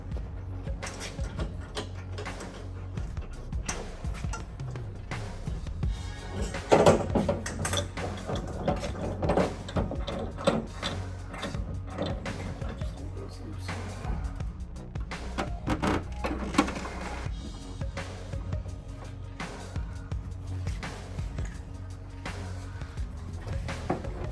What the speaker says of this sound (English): now we are screwing in the top part